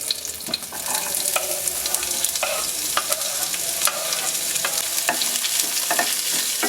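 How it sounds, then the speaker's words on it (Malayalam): Green chillies and sliced onion sizzling in hot oil in a pan for a Kerala-style onion curry, a loud close crackle broken by repeated sharp scrapes and clacks of stirring, with no one speaking. "ഈ പച്ചമുളകും സവാളയും അങ്ങ് ഇട്ട് കൊടുക്കും"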